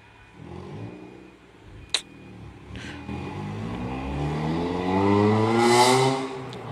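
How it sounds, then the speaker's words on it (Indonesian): A car passes by outdoors, its engine and tyre noise swelling from a low rumble to a loud, close whoosh before fading slightly, with a couple of sharp clacks early on. "ada mobil lewat"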